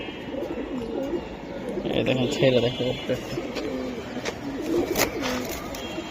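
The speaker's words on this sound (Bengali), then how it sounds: "কি এটা? পাখি কবুতর ভাই" Pigeons coo repeatedly in soft, rolling phrases close by, with someone talking over and between the calls.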